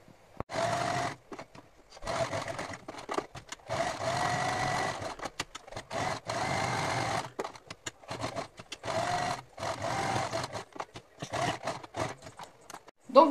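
A sewing machine topstitches the edges of a small washable cloth wipe, running in repeated whirring bursts of rapid stitching separated by brief pauses, close and steady with no talk.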